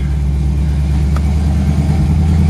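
Engine of a 1966 old American car, a steady low, rumbling drone that stays loud and constant throughout, with no voices over it.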